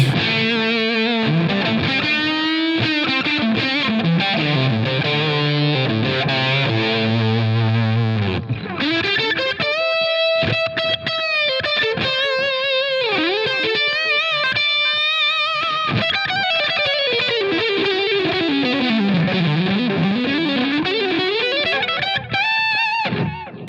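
Overdriven electric guitar played through a boosted Marshall Plexi Tremolo 50 amp model with delay, heavily distorted chords and sustained lead notes with trailing echoes, loud and continuous.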